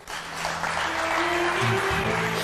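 Applause rises and holds for a couple of seconds, a dense crackle of clapping hands with a few tonal sustained sounds running underneath.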